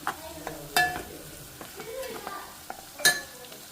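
A spoon stirs bitter gourd curry with chili powder in a pan: scattered scrapes and clinks against the metal over a faint sizzle, with a few sharper knocks.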